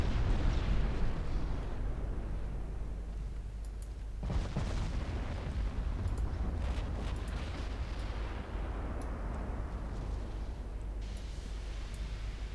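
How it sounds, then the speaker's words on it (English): Heavy 18-inch naval guns in the Ultimate Admiral Dreadnoughts warship game firing on a lightly armored light cruiser: deep booming blasts and rumbling explosions over a constant low roar of battle. "It's an 18-inch just evaporating a light cruiser"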